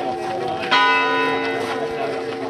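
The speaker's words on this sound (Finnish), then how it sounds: "Kirkon kellot soi." Church bells ring at Iitti church in Finland, arriving on a church rowing trip from Jaala; a loud, sustained ringing tone swells in at under a second and carries on steadily over background bustle.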